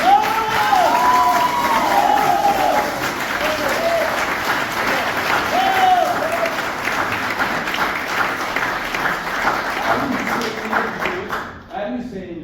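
A concert audience at a student piano recital applauds and cheers, dense sustained clapping with whoops and a speaking voice over it, fading out near the end.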